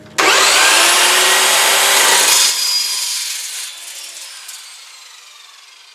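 A loud, harsh power saw blade cutting through aluminum, starting abruptly and running steadily for about two seconds before fading as the blade spins down.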